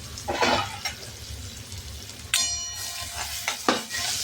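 Chopped onion sautéing in a pan with cumin, ginger-garlic paste and bell pepper pieces, heard as a soft steady sizzle broken by a few sharp scraping stirs of a spoon against the pan.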